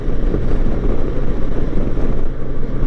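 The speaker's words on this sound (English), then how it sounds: "God, it's windy." Loud, steady wind roar buffeting the microphone on a moving motorcycle during a coastal highway ride, constant low rumble with no pauses.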